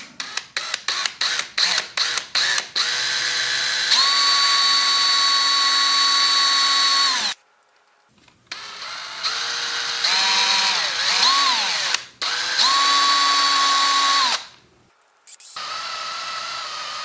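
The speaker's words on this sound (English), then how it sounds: "I've got a little drill here. I'm gonna try and drill this thing out." Handheld power drill boring out a broken bolt: a few short trigger bursts, then sustained steady whining runs with brief pauses and a wavering pitch as the bit bites, loud and close.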